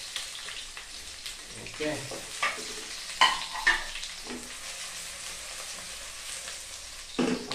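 Garlic and half an onion sizzle in hot oil in a pan, crackling steadily while a spoon stirs and scrapes with a few louder clatters, and a voice briefly speaks.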